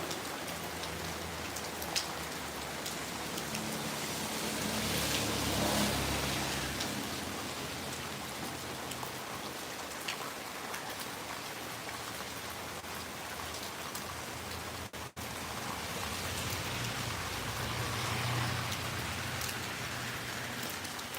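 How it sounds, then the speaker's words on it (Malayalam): Steady rain falling and pattering on surfaces during an unseasonal summer shower, a continuous broadband wash that swells slightly in places, with no voices. "അയ്യോ മഴയും"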